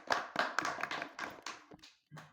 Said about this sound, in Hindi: उनका आप स्वागत तालियों की गड़गड़ाहट से करें